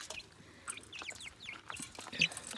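Young six-week-old chicks and a duckling on a rainy farm give soft scattered clucks and chirps, fairly faint and close, over quiet background with no talk.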